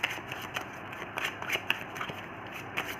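Tarot cards being shuffled and drawn from the deck: a steady run of soft papery riffles and flicks with a few sharper snaps, close up and fairly quiet, with no talking.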